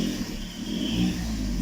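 A VW Polo 6R with a blowing exhaust revs briefly, its engine note loud and rough with a raspy, leaky drone.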